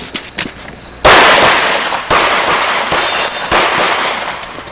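Pistol shots ring out during an IDPA shooting match stage, with four loud, sharp reports spaced about a second apart, each cracking hard and then trailing off into a short echo.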